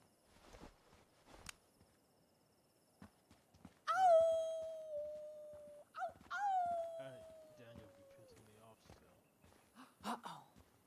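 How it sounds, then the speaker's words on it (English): Wolves howl in the video game Life is Strange 2, two long drawn-out wails in succession, with a voice talking before and after them. "I hear a wolf."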